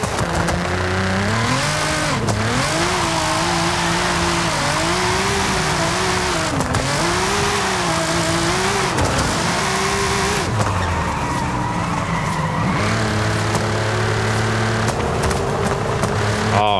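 A car being driven in Forza Horizon 5, its engine droning loud and steady with rising and falling revs through gear shifts, plus occasional tire squeal, alone without talk.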